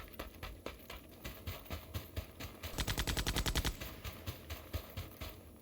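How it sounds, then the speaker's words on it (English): A suppressed gun in a video game fires soft, muffled shots, first spaced single pops, then a dense rapid burst of about a dozen, then more scattered shots, moderately loud with no talk. "Love the sound of this gun when it has a suppressor on it."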